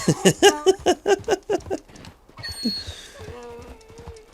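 Rapid hoofbeats of a donkey running in Red Dead Redemption 2, a quick clip-clop rhythm of about a dozen close, loud strikes that fade out, followed by softer game ambience.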